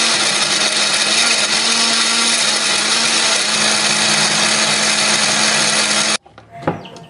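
A kitchen blender grinds chili, shallot, garlic, pepper and water into a spice paste with a loud, steady, whirring roar. It runs for about six seconds, then cuts off abruptly, leaving a few faint clatters.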